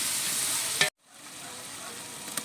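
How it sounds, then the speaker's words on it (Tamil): Ginger garlic paste sizzling loudly in a hot pan of oil for chicken biryani, a steady close hiss that cuts out abruptly, then returns quieter. "இஞ்சி பூண்டு பேஸ்ட் 400 கிராம் போட்டுக்கிறேன் 5 kgக்கு"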